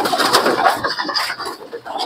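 High-flying pigeons kept by a hobbyist coo and call close by, a steady murmuring flock sound with fluttery bursts, fairly loud and continuous with no talk.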